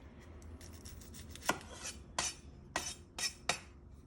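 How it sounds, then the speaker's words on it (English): A knife cuts the top off a red onion on a board, giving about five sharp separate chops spaced through a quiet stretch, close and fairly crisp, with no talking. "And I have a little bit of onions here, red onion. So I'm going to cut a tiny little bit on the top."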